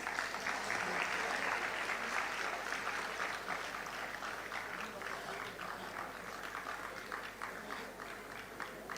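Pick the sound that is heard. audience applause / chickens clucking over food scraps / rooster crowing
audience applause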